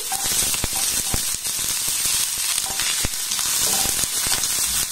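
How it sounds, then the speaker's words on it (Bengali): Chopped onion with whole cumin crackles in hot oil while a spatula stirs it, producing a dense close sizzle punctuated by sharp repeated scrapes and taps on the pan. "পেঁয়াজটাকে একটু হালকা নাড়াচাড়া করে ভেজে নেব"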